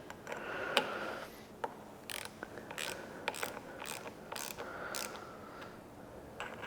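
A ratchet tightens bolts on a new bike in a diagonal pattern, producing short bursts of quiet clicking pawl ticks separated by brief pauses, close and without talk.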